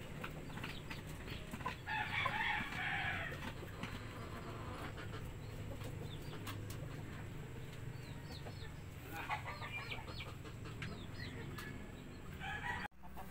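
Rhode Island–type Mahogany chickens cluck and a rooster crows in a farmyard, with bursts of crowing around the start and middle over steady soft clucking and outdoor ambience; a person talks briefly.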